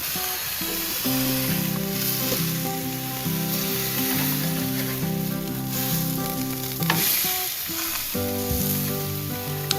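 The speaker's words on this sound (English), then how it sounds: "Ain't nothing like that summertime sizzle." Thin pork steaks sizzle loudly on a hot Blackstone griddle, a steady crackling hiss running throughout with a few metallic scrapes and clinks of a spatula near the end, no voices.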